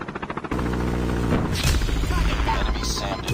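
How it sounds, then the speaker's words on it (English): In Call of Duty Mobile, a chopper gunner helicopter thumps with a rapid rotor pulse, then heavy sustained gunfire and booms take over, loud and dense throughout. "Deployed chopper gunner."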